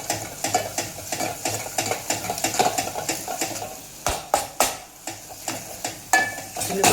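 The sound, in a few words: roasting chutney and masala in oil, stirring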